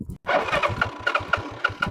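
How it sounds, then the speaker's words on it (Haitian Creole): New motorcycle engine starting with a quick crank, then catching into a pulsing mid-pitched run with several short revs, fairly close. "Bel ti gaz, pas besoin de gaz. Moto neuf, oui."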